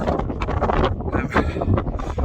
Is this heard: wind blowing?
yes